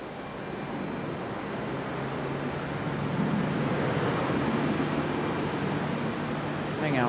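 An American Airlines jet comes in to land at Raleigh-Durham International Airport on a stormy day, a loud, steady engine roar with airflow rush that holds for the whole stretch, with a faint high tone near the end.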